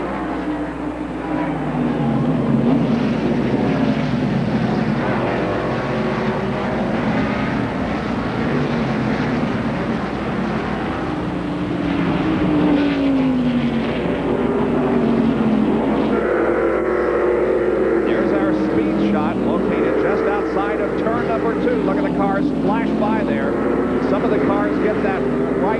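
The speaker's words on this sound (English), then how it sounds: "The cars come off of the 11th corner and they get the green flag" NASCAR stock cars racing at the 1991 Banquet Frozen Foods 300 on a road course, a dense continuous engine roar from the pack after the green flag, heard under steady race commentary.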